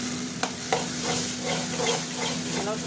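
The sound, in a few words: stirring chana dal frying in a pan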